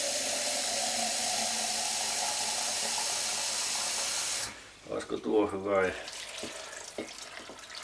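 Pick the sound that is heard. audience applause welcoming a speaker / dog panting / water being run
water being run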